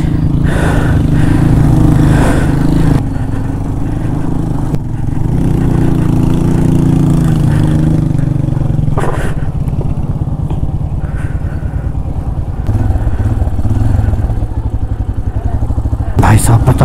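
A vehicle engine labors steadily along a rough, rocky track in a difficult stony area, a continuous low rumble with occasional jolts and shifts in load, with people talking over it.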